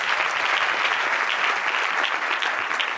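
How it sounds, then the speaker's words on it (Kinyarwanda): Loud, dense applause from a crowd, steady clapping filling the whole stretch without pause. "Dukomere Imana amashyi menshi cyane."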